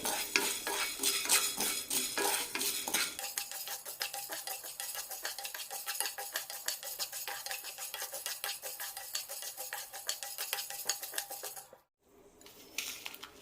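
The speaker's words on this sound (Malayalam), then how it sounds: "ഇനി ഇതിലേക്ക് ഒരു ടീസ്പൂൺ മല്ലി ഒരു ടീസ്പൂൺ കുരുമുളക് അര ടീസ്പൂൺ ഉലുവ നന്നായി ചൂടാക്കാം" Coriander seeds, black pepper and fenugreek dry roasting in a pan, stirred with a spoon so the grains rattle and scrape steadily with light metallic clinks, briefly cutting off near the end; no talking.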